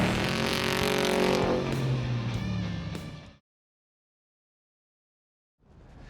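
A 1971 Chevy C10 pickup with a 460-horsepower LT1 V8 roars hard on a track, its engine loud and steady before cutting off abruptly, with a second burst starting faintly at the end.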